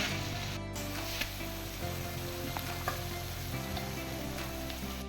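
Chopped capsicum and finely cut carrot fry in a pan with a continuous close sizzle and occasional stirring scrapes, moderately loud and steady, no talking.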